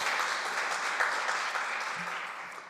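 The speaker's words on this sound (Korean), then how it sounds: "우리 하나님께 다시 한번 영광의 박수 한번 올려드립시다." A Korean congregation applauds during Sunday worship at a church's founding service, a steady, moderately faint, even wash of many hands clapping that tapers slightly at the end.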